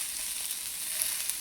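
Bean sprouts frying in an oiled pan for Thai hoi tod pancakes, giving a steady, close, bright sizzle with a few faint crackles and no voices.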